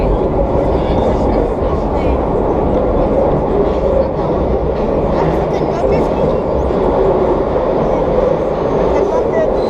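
NYC subway R60 holiday nostalgia train riding between 2nd Avenue and Queens Plaza: loud, constant rumble and rattle of the rail car in motion from inside, with people talking over the noise.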